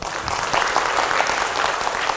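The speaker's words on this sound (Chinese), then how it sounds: "我们今天先给自己一个热烈的掌声。" Steady, dense clapping from an audience at a spiritual counselling talk, filling the whole stretch at an even, lively level without voices.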